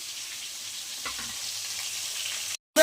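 Pieces of catla fish fry in hot oil with a steady, even sizzle heard up close, a brief clatter partway through, and the sound cutting out abruptly near the end.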